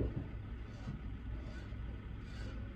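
Construction trucks pulled up right outside a house make a steady low rumble of heavy engines that runs beneath a woman's spoken yoga instruction.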